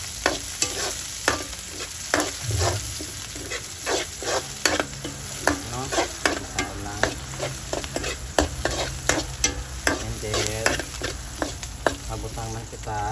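Onion sautéing in a pan for spaghetti sauce, frying until golden brown: a steady close sizzle under repeated sharp clicks and scrapes of a utensil stirring against the pan, with no talking.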